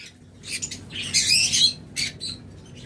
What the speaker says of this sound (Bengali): এটা হলো পাইনাপেল কনুর আর আগেরটা ছিল সান কনুর